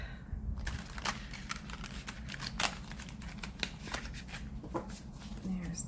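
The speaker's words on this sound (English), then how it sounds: "This one's not so easy to shuffle, but we're gonna do it." A stiff tarot card deck being shuffled: repeated papery riffles and card flicks against a steady low background hum, fairly close.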